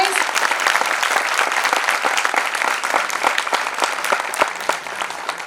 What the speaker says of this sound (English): Can we have a huge round of applause, guys?